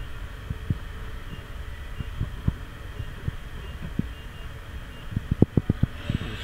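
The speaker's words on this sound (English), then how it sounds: "I will start the spindle up and run through a couple of speed RPM ranges. And we'll start with 500 RPM." ProtoTrak TRL 1630SX CNC lathe spindle running at 500 RPM, a low steady mechanical hum with regular soft thumping pulses and a few sharper knocks near the end, no talk.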